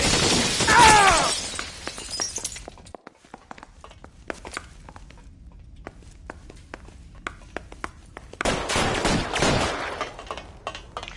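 Gunfire in a 1940s Los Angeles shootout from L.A. Noire cracks out in loud bursts at the start and end, with sparse sharp single shots and faint clicks echoing in the quieter stretch between.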